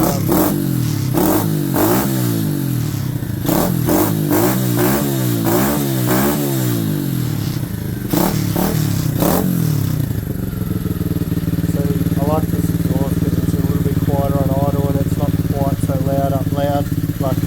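A CRF70-based pit bike engine with a slight misfire revs hard in repeated bursts, rising and falling, then settles into a rough, steady idle with faint clattering, loud and close.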